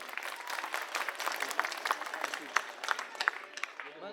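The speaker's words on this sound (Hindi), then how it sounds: "एक बार जोरदार तालियां अपने लिए बजा लीजिए आप।" Crowd clapping at an Aam Aadmi Party election rally in Kondli, Delhi, a thick sustained round of applause with sharper individual claps standing out, moderately distant and fading at the end.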